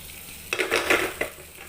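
Butter and onion hit a hot pan and sizzle up with a burst of crackling and a couple of stirring scrapes, close and loud over a quiet start.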